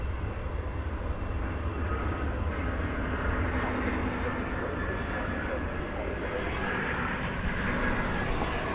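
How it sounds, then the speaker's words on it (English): An American Airlines Airbus A319 arriving at Dallas Fort Worth Airport from San Luis Potosí produces a steady, moderately loud engine roar, with a voice talking beneath it. "Arriving from San Luis Potosí in Mexico, it's American Flight 1440. It's an Airbus A319."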